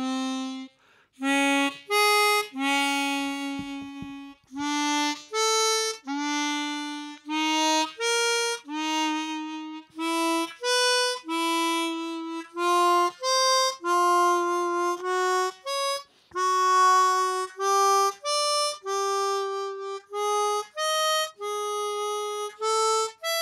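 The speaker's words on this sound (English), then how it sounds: "I will do the same 1-5-1, like root fifth one, and it sounds like this." Chromatic harmonica playing a slow warm-up exercise in its lowest octave, stepping root to fifth and back in sustained separate notes with short breaths between, clear and close with no talking.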